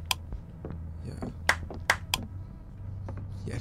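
Several sharp hand claps in a Roblox horror game, a few isolated claps spaced unevenly over a quiet background, fairly close and crisp.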